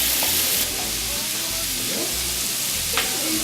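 Carrots, celery, onion and sliced mushrooms sizzle and fry in a pot as a base for beef bourguignon, with a steady close hiss and occasional stirring scrapes and clinks.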